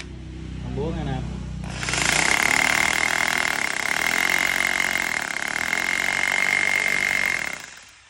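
A Japanese power drill in hammer mode starts after a brief spoken remark and hammers loudly with a steady buzzing rattle and sharp high tone for about six seconds, then stops.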